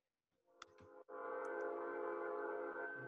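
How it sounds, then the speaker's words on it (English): A train rolls past close to a house, its horn blaring in a long, loud, sustained tone that swells in after a few faint knocks and holds steady throughout. "got the train coming through here."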